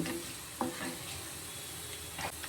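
Onions and curry leaves frying in hot oil toward golden for a Tamil egg and rock fish curry, a steady close sizzle with a few soft stirring scrapes and taps.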